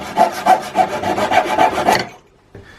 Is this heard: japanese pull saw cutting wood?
yes